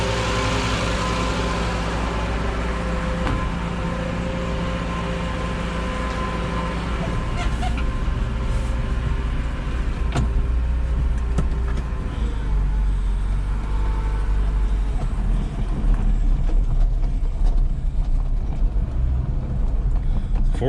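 A vintage 1968 BMW 1602 drives out of the shop after timing work, its engine a steady low rumble throughout with road noise, close and continuous, no talk over it.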